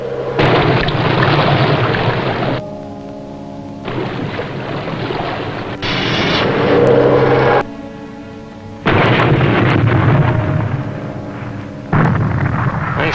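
Torpedoes fired at a tanker burst in a series of heavy, roaring explosions, several loud rumbling blasts separated by short quieter gaps, each lasting a couple of seconds.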